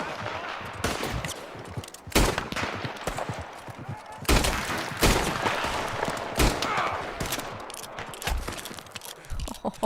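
Gunfire in Red Dead Redemption 2, a dense fusillade of loud sharp shots and volleys at irregular intervals, some close and cracking, others echoing behind a busy game soundscape.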